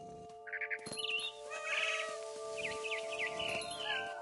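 A cat meows repeatedly in the video game What Remains of Edith Finch, a series of close, clear meows and a drawn-out caterwaul over a steady game background tone, with no talking.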